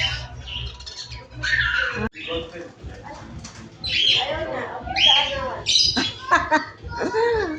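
Caged birds squawk and chirp in bright, repeated calls near at hand, with people talking throughout and a few sharp cries rising above the voices.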